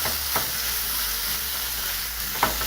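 Pork sizzles loudly in a hot pan over high heat, a continuous close frying hiss broken by a couple of scraping stirs.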